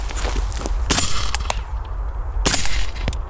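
A suppressed SIG MCX Rattler rifle fires two sharp shots into a dirt berm outdoors, about a second and a half apart, each a loud crack with a short thump of impact, over steady wind noise.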